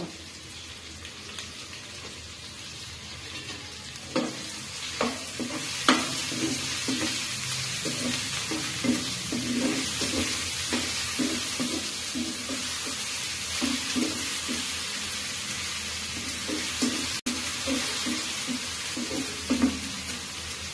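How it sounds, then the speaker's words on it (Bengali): Ginger and garlic paste sizzles steadily in a pan, close and moderately loud, with repeated scraping taps of a spoon stirring it. "আদা রসুনটা আমার ভাজা ভাজা হয়ে গিয়েছে।"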